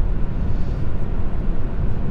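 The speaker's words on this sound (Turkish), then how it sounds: "140-145'lerde de rüzgar sesiyle yol sesi içeri bayağı giriyor." Steady broadband wind and road rumble inside a Volvo S60 T3 with a 1.5 turbo engine cruising at around 140 km/h, a continuous low roar with hiss above it and no talk.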